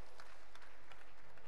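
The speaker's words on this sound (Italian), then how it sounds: "Un applauso anche per Andrea." An audience at an Italian talk on digital transformation applauds a participant named Andrea, giving steady, dense clapping that holds evenly throughout, fairly distant and without any talk over it.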